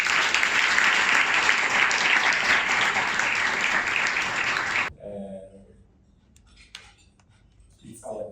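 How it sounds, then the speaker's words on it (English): A large audience at a fundraising dinner bursts into loud, sustained applause that cuts off abruptly partway through, leaving faint clinks of cutlery and dishes and quiet murmurs in the room. "can we please give them a massive round of applause?"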